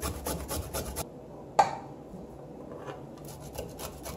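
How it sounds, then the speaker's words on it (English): Fresh orange turmeric root shredded on a small hand planer, a close, quiet run of quick scraping strokes that stops abruptly, then a single knock and faint scattered rubbing afterward, with no talk. "take a little planer, shred it up a little bit."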